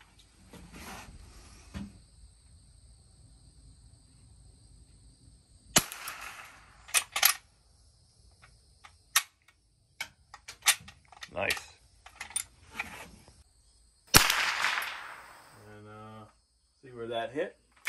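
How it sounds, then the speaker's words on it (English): A Wz. 31/Wz. 48 single-shot .22 rifle fires with a sharp crack, then several clicks and clacks of the bolt being worked. Separate mechanical snaps follow, with a louder burst near the end and faint speech at points. "pull the bolt back and it ejects"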